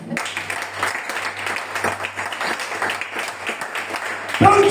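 A church congregation applauds God with continuous, fairly loud clapping that holds steady over a low hum, ending in a short louder burst.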